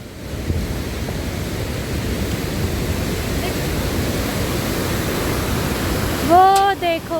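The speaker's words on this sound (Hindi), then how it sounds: "इस नदी का जो प्रेशर है ना, इसकी वॉइस इतनी तेज़ आ रही है" A loud, rushing river in the Valley of Flowers roars as a dense, steady wash of water noise, close and continuous, with a brief bird call near the end.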